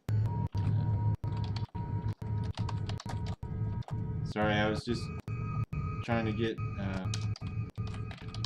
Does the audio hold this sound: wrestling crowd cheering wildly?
no